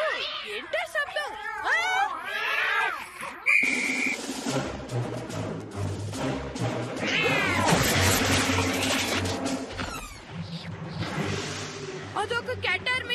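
A cartoon cat meows and caterwauls in a series of drawn-out, wavering yowls, loud and close, mixed with music and sound effects from an animated episode.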